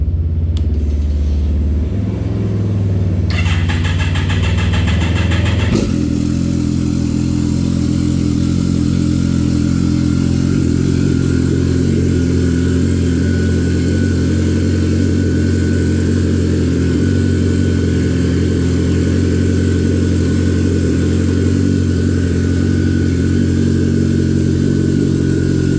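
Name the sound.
stripped-down Harley motorcycle engine running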